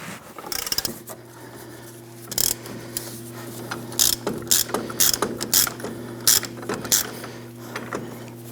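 A ratcheting hand tool backed off after pressing a front lower ball joint into a 1997-2006 Jeep Wrangler knuckle, clicking in short irregular bursts over a steady mechanical hum, close and fairly loud.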